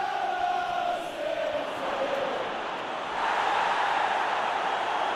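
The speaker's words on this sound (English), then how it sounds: "Well, the crowd clearly like what they just saw." Stadium crowd in the football video game PES 2021 cheering during a Manchester United Master League match, a steady broad roar that swells louder in the latter half, with no talk over it.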